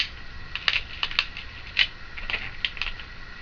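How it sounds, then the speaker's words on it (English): A pen presses and scrapes lines into a thin aluminum drink can taped flat, giving a string of small, irregular tapping and scratching clicks, quiet and close. "If you press kind of hard, it will make an indent in the aluminum can."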